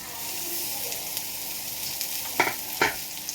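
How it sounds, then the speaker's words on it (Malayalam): Chopped onions fry in a pan with green chillies and garlic for a ladies finger stir-fry, a continuous close sizzle broken by two sharp stirring clatters toward the end, no talk. "അതിലേക്ക് നമ്മൾ ഈ അരിഞ്ഞു വെച്ച സവാള ഇട്ട് കൊടുക്കുന്നുണ്ട്."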